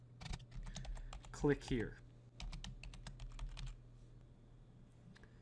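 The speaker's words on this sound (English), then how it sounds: "I'll type in for more information" Typing on a computer keyboard, a scattered run of quick sharp key clicks close by, with a brief spoken phrase partway through.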